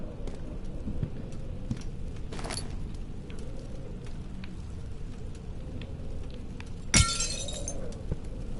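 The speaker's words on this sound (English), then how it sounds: "Yay, shattering stuff." Glass shattering in the horror game Amnesia, one sudden bright crash near the end that stands out over a dim, steady rain-like ambient hiss, with a softer clatter earlier.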